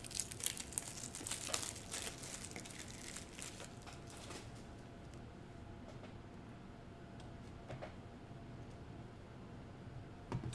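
Packs of 2021 Prizm basketball trading cards from a mega box being torn open, with crinkling and ripping foil wrappers loudest at the start, then fading to quieter rustling, close and without talk.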